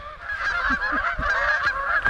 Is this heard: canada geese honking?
yes